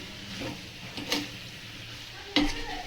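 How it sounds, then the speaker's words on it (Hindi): Salt gets stirred into bottle gourd in a cooking pan: a soft sizzle runs underneath while a spoon scrapes and knocks against the pan a few times, sharpest near the end. "नमक को भी मैं अच्छे से मिक्स कर देती हूँ।"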